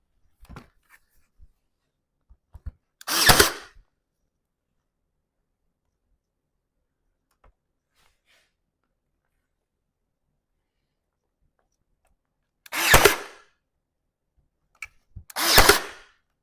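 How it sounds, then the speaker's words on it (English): A brad nailer fires brads into an odd-shaped piece of wood during garage home decor work, giving three sharp, loud pneumatic bursts, one early and two close together near the end, with faint clicks and long quiet gaps between. "And then maybe shoot them with some brads"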